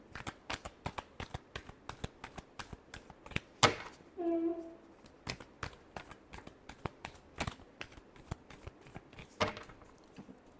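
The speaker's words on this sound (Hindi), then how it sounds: "Last shuffle." Tarot cards are shuffled in quick repeated riffles and snaps, crisp and close, with a brief faint voice in the middle.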